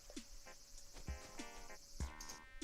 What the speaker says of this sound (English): I hear a different cicada, although it's probably gonna fly away.